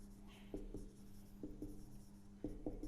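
Pen or marker writing the definition of matrices on a board during a maths lesson, giving soft intermittent taps and strokes at a steady pace under a faint background hum.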